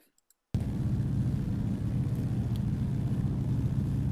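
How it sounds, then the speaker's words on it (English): A de Havilland DHC-2 Beaver engine runs, heard after a brief silence and a couple of clicks: a steady, loud, low rumbling drone that holds evenly for several seconds. "Oh man, that engine sounds good."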